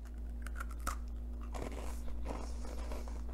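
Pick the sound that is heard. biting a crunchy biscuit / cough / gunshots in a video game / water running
biting a crunchy biscuit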